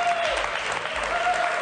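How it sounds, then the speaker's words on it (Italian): Studio audience on a televised science news segment breaks into brief, lively applause, dense clapping filling the short moment with no speech on top. "Io farei un applauso"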